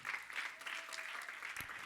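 A church congregation claps together in a soft, steady stream of applause, heard faintly and evenly across the short moment with a faint voice beneath.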